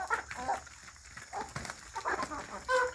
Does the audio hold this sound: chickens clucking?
yes